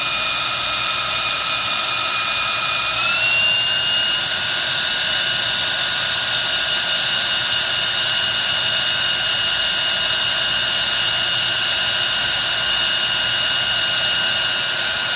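An LG Cordzero A906 cordless stick vacuum whines steadily at high power, then its pitch rises sharply as it steps up into turbo mode and holds a loud, continuous, piercing motor howl.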